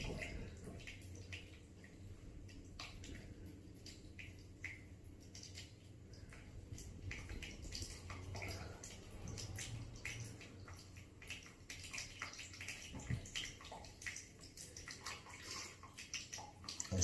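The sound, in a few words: water draining from a disconnected radiator pipe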